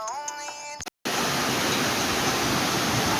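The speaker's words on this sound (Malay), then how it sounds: "Okay, kita sampai air terjun Sungai Lopo." The Sungai Lopo waterfall in Hulu Langat roars as a dense, steady broadband rush, close and loud, after a brief snatch of music and a moment of silence at the start.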